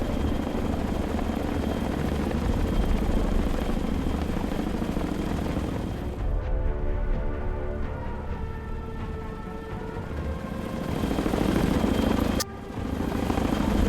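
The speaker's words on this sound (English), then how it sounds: "The Chinook touches down." A Chinook helicopter in the naval war game Sea Power settles onto an airport, a steady broadband rotor and engine roar that dips and thins near the end, with no voices.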